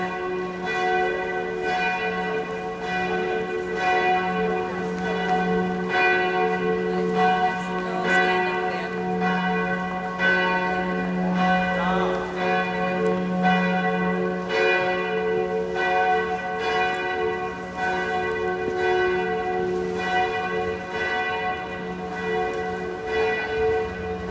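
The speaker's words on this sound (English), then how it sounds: "Listen to the bells." Church bells ringing noon loudly and steadily for a long stretch, overlapping peals with a sustained low hum, no voices.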